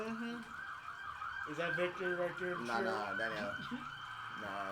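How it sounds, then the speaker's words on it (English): An ambulance siren wails from the street outside, its rising and falling tone sweeping steadily beneath people talking nearby. "That's the ambulance."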